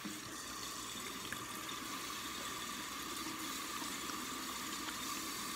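Tap water running steadily into a sink for hand washing in a home kitchen, a constant broadband hiss and splash with no voices.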